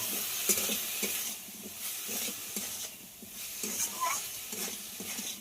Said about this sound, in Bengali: এই সব কিছু দিয়ে আবার একটু কষিয়ে নিতে হবে।